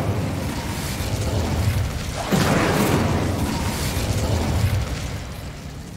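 An Incendio fire spell in Hogwarts Legacy: a whooshing, roaring blast swells a little past the midpoint and slowly fades over continuous rumbling game ambience, with no speech.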